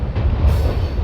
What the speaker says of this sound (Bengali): এবার ট্রেন হাওড়া ঢুকছে